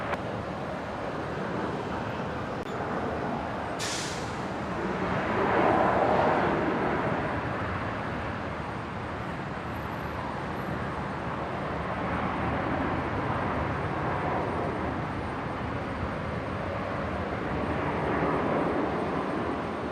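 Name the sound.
Velocity (Virgin Australia) aircraft taking off, runway 19 right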